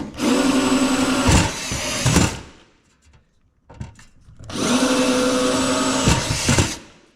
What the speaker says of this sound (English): the first part is just drilling all these holes out